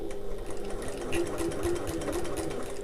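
A sewing machine runs steadily while stitching across the end of a fabric backpack, a continuous close whirring hum that goes on without pause.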